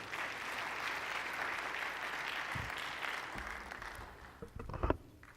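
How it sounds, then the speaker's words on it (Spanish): Steady applause from a crowd fills a church hall, then tapers off with a few scattered final claps near the end. "Recibámoslo con un aplauso"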